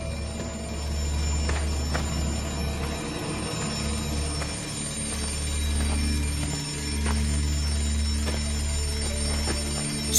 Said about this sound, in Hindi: एक डब्बे से अलार्म क्लॉक बजने की आवाज आने लगी।